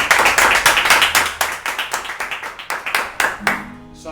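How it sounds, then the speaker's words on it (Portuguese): A small gathering claps steadily for several seconds, the individual hand claps distinct and fairly close, thinning out at the end as a voice begins speaking. "Uma salva de palmas."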